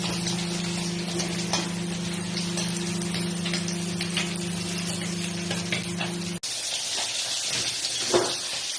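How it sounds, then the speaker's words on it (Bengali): Rice is stir-fried in a pan with cauliflower and potato. It gives a dense, crackling sizzle with small ticks and pops from stirring. A low electrical hum sits beneath the sizzle and cuts out partway through. "ফুলকপি আর আলু ভালো করে কষানো হয়ে গেছে, এবার চালটাকে দিয়ে সুন্দর করে কষিয়ে নিচ্ছি"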